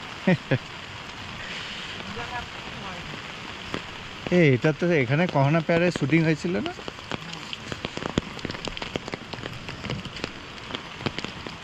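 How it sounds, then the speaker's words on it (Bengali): Steady rain patters in the background on a muddy road to Dri Valley in Arunachal Pradesh, while a person speaks nearby for a few seconds. "যদিও বৃষ্টি পড়ছে।"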